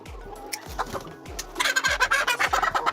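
Turkeys and other poultry in a farm pen gobble and cluck in repeated bursts, growing louder and busier midway, with low rhythmic background thumps and no talking.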